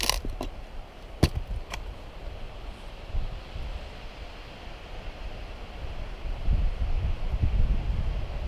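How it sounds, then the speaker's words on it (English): Wind blows outdoors in spring bear country, a faint, steady rush with soft gusts and microphone buffeting, swelling stronger toward the end, with a few sharp clicks early on. "Here comes the wind again."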